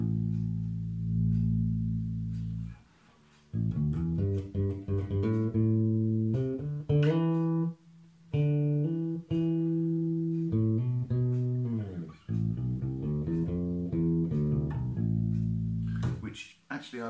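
Electric bass guitar with a standard 80s tone, played alone in sustained, deep melodic notes and phrases with brief gaps, close and steady throughout.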